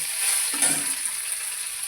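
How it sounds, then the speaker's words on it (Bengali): Boiled potatoes dropped into hot oil with a dried red chili for a Bengali bitter gourd and potato dish, a constant bright sizzle that swells briefly as they go in, no speech. "আলুটাকে দিয়ে দিলাম ভেজে দিলাম"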